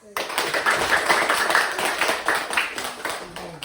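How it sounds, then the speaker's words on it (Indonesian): Classroom group clapping for a student presenter, a short burst of brisk mixed hand claps rising and fading over a few seconds, close by. "Beri tepuk tangan dulu untuk Aras"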